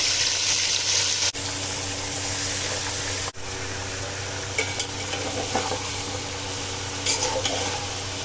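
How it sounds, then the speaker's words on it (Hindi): Mutton sizzling with whole spices in mustard oil, a steady loud frying hiss with stirring scrapes and brief clatters, no talk. "थोड़ी देर मटन को सारे मसालों के साथ भूनेंगे।"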